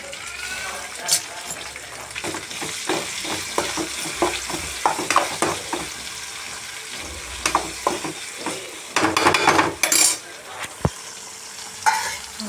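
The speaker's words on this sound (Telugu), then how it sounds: "పుదీనా కొత్తిమీర కరివేపాకు 2 వేసుకొని బాగా కలుపుకోవాలండి" Tomato, mint, coriander and curry leaves being stirred in a hot pan for a vegetable kurma, with steady scraping strokes and light sizzling, plus a few louder clanks and splashes near the end.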